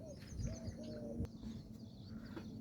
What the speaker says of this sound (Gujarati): તે લલેડી બેન કહેવાય.